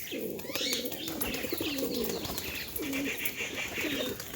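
A pigeon coos nearby in repeated low, rolling phrases, with faint chirps and a busy background hum behind it.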